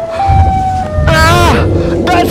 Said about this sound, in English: That was the siren!